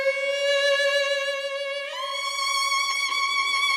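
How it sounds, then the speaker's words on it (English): A dry sampled violin in FL Studio, with no effects, plays a slow dark orchestral melody of sustained bowed notes with vibrato, stepping up to a higher pitch midway, clear and alone. "Without the effects, the violin sound like this."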